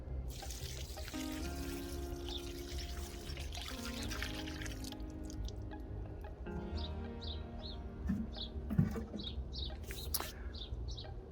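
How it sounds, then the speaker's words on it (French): Water poured from a can onto a newly planted fruit tree in a vegetable garden, roughly ten to eleven litres, makes a steady wash of pouring and trickling throughout, with birds chirping in the background. "Et maintenant un bon arrosage."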